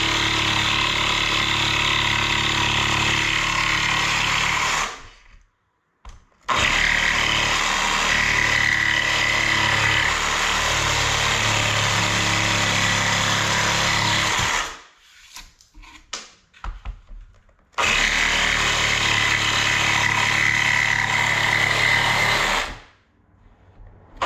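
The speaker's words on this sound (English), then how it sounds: "It's just probably just run the jigsaw around, and then hopefully it will do that." A jigsaw cuts down a wooden vanity unit in three loud, sustained bursts with brief silent pauses between them. It is close and steady, with no talking.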